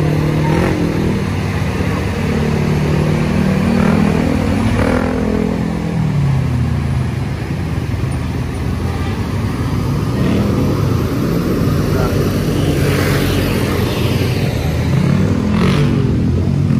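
A new NPM Sultan Class bus rumbles past on the Sitinjau Lauik mountain road, its heavy engine drone loud and close throughout, rising and shifting as it goes by.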